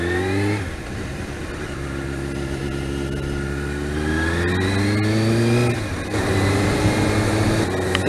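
A Suzuki GSX-R 600 SRAD motorcycle engine revs up from idle in rising sweeps, drops back, then climbs again, loud and close with a smooth high-pitched mechanical whine and no talking.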